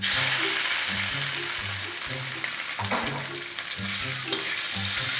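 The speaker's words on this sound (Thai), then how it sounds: "พอกระเทียมเริ่มเปลี่ยนสีแล้วก็ ส่งกลิ่นแล้วนะครับ ให้ใส่กุ้งลงไปผัดนะครับ" Shrimp stir-fried with garlic in a pan, a steady loud sizzle with repeated scrapes and clicks of stirring, close up, no voices over it.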